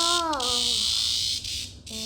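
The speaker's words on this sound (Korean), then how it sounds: "매미예요" A captured cicada gives off a loud, continuous high-pitched buzz close up, briefly dipping and resuming, with a short stretch of voice at the start.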